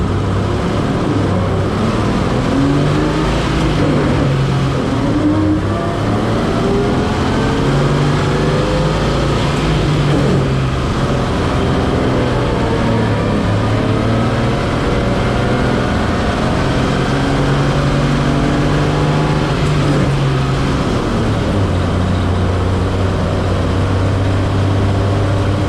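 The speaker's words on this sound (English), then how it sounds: "that truck's running okay, it's moving okay" An old truck drives along, its low engine drone steady and close, with the pitch rising and falling as it revs and shifts through gears, running continuously with no talk.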